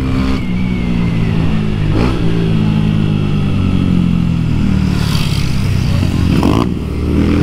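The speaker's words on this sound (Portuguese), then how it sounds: "Vamos acelerar ela ali pra fazer o teste certinho, hein?" A Honda Start 160 motorcycle fitted with a blue Dore exhaust idles loudly up close and is revved in several rising bursts, with a rough mechanical rumble throughout.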